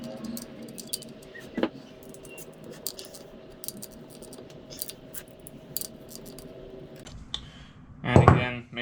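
Bolts are put back in by hand on a 2008 Kawasaki KFX400 ATV during an oil change, with small metallic clicks and taps scattered over a low hum and a louder clatter near the end.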